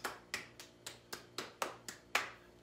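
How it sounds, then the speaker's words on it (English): Sharp claps ring out one at a time at a steady, even pace, eight in all, close and fairly quiet during a children's recess game session. "I need you to give me a round of applause."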